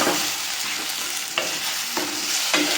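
Potato and egg fry being stirred in a sizzling pan, with a steady frying hiss and periodic scraping strokes of the spoon, close and fairly loud, no voices.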